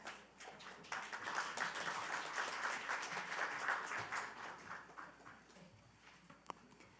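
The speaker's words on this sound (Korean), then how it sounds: "큰 박수로 맞아주시길 바랍니다." An audience at a Korean National Assembly forum claps to welcome a lawmaker to the podium, dense applause that rises at once, holds steady for several seconds, then thins out into scattered claps.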